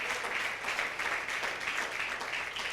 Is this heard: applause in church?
yes